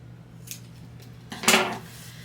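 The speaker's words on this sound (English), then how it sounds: "you can just take your scissors and trim off that extra little bit." Scissors snip off excess paper while trimming pages for a 5x7 shaker album, a couple of quick crisp cuts close by, the second louder and longer, against a faint steady hum.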